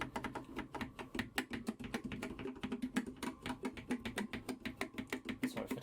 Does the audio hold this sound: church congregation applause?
no